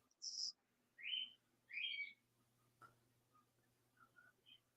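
A bird chirps outdoors on a porch, a few distinct bright calls in the first couple of seconds, then fainter short chirps later over a quiet background.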